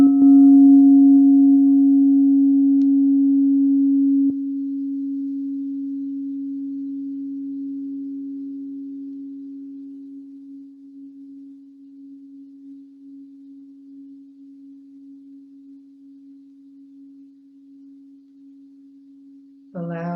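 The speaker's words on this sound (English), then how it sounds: "When you hear the sound of the singing bowl" A singing bowl rings out with a pure, sustained tone that slowly fades over many seconds, then a soft tap sounds at the end.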